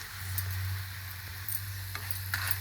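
Tempering of curry leaves, urad dal, mustard seeds, cumin, garlic, dried chillies, fenugreek and asafoetida frying in hot oil, a steady soft sizzle with light crackles and pops over a low hum, no talk.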